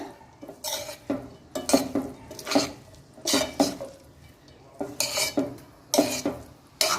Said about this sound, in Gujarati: મેં ગેસને ધીમો રાખ્યો છે અને આપણે સારી રીતના મિક્સ કરી દઈએ